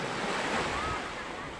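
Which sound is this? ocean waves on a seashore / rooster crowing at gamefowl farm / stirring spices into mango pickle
ocean waves on a seashore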